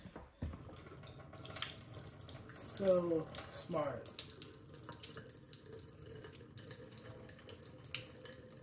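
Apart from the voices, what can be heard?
water strained out of ramen container into sink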